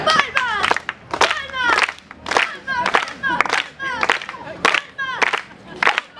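Circus audience clapping in rhythm, bursts of many hands beating a steady pulse roughly twice a second, loud and close, mixed with excited children's voices.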